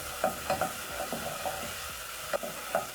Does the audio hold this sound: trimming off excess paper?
no